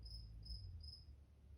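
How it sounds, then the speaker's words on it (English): Crickets chirp steadily in a garden at night, a faint high-pitched trill pulsing in three even bursts over a low background hum, with no voices. "I had the fights in here with the crickets and they're back."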